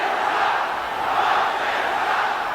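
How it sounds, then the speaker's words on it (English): Dense, loud roar of an old-school NBA basketball arena crowd during a heated game, a steady sustained wall of cheering and shouting with no break across the whole moment. "I don't remember when this crowd was aroused as much."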